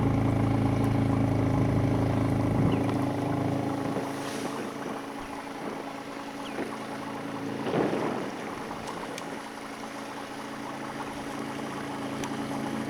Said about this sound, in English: down the river we have come on the Tilly 2, which is the boat out of Snipe Mountains